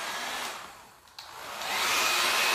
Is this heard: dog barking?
no